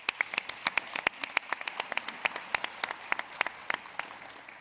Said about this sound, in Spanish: Un aplauso, por favor, para Natalia.